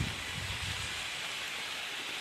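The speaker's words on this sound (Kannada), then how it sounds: "ಅಲ್ಲೇ ಮಳೆ ಬರ್ತದೆ" Steady heavy rain falls outdoors near a teak tree, a dense continuous hiss with no talk over it.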